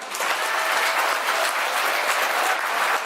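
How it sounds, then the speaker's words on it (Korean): Wedding guests at a hotel ceremony break into loud, sustained applause, many hands clapping in a thick continuous patter that stays strong throughout. "예빈 여러분 큰 박수 부탁드리겠습니다"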